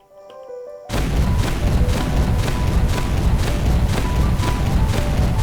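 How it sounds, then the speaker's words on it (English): Hand cannon in Terraria firing high explosive peanut shells, a video game weapon: a sudden loud blast sets off a dense run of repeated booming shots and thuds that carries on steadily to the end. "Fires high explosive peanut shells, literally."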